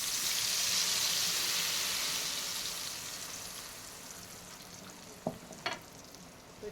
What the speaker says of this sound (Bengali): আমি এই সর্ষে পেস্টটা আমি ঢেলে দিলাম।